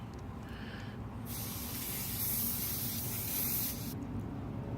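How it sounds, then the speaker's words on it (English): Air hisses steadily from a car tire valve while a pressure sensor is fitted, a close, loud rush that starts abruptly and cuts off after a few seconds. "Tighten it until you don't hear any more air"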